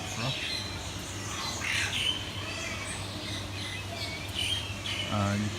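A myna bird at a zoo calls in repeated squawks and whistles over a busy background hum, some calls sharp and near, others fainter.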